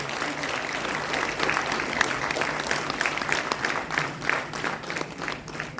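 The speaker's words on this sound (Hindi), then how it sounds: "बहुत जोरदार तालियों से अभिनंदन करिएगा" Audience applause at a retirement ceremony at IVRI Bareilly, a steady crowd of clapping that carries on throughout at moderate loudness, with a faint voice murmuring underneath.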